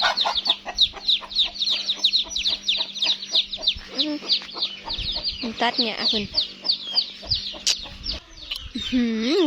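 Farm chickens cluck busily and continuously close by around a nest where eggs have fallen, with quick, overlapping calls while a person speaks briefly among them.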